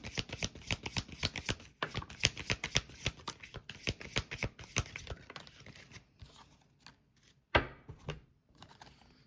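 Tarot cards are shuffled in a quick run of crisp riffling flutters, close and loud, then slower, softer handling and a final sharp snap with brief shuffles after.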